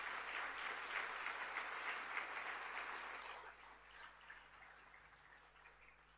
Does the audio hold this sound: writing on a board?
no